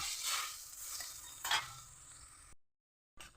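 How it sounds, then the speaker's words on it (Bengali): Pumpkin curry poured into hot oil with fried dry chillies, cumin and bay leaf hisses and sizzles in a pan while being stirred, a quiet scrape mid-way, before cutting to brief silence. "এবার একটু নাড়িয়ে ছাড়িয়ে দেব"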